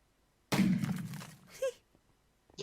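A small explosion in Minecraft with the Applied Energistics 2 mod, a sudden muffled boom with a crackling tail lasting about a second, followed by a brief tonal blip.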